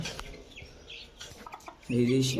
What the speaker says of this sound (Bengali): এদিকে হচ্ছে আমার ফার্মি মুরগিগুলো খুব তাড়াতাড়ি বড় হয়ে গিয়েছে